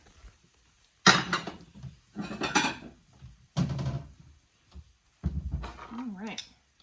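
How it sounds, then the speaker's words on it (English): Dishes and a plate clatter in a home kitchen during shrimp and asparagus cooking, four or five separate bursts of clinking and scraping with quiet gaps between them. "I'm going to turn this off and I'm going to get a plate."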